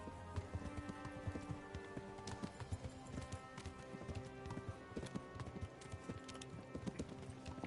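Galloping horse hooves in the medieval game Kingdom Come: Deliverance, a quick rhythmic clip-clop of a running horse, faint and steady over a low background.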